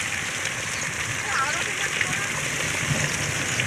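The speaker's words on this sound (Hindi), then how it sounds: "बारिश जो है बहुत ही तेज़ हो रही है। आज ओले भी गिर रहे हैं साथ में।" Heavy thunderstorm rain with hail pours down steadily over hilly farmland, a dense, continuous hiss with scattered tapping hits, loud and unbroken throughout.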